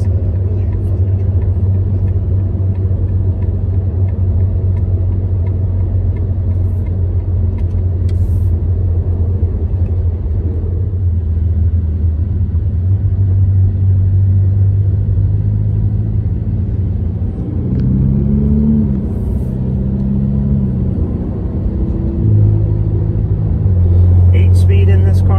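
A car pulling hard in sixth gear, its engine and road rumble droning steadily and rising slightly in pitch, with people talking over it inside the cabin.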